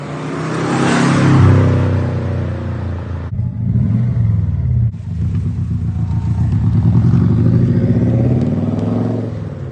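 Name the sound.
twin turbo car engine running and revving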